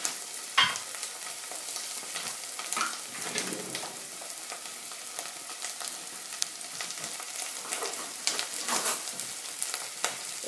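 Cashews and onions fry in a pan for a potato curry, a continuous soft sizzle broken by scraping stirs and small crackling pops, close and fairly quiet, with no talking.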